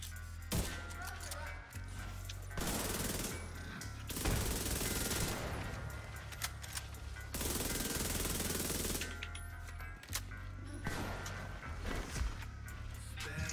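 Rapid automatic gunfire from enemies shooting at the player in the video game The Division 2, several sustained bursts separated by brief pauses, loud and close, with game effects between the volleys.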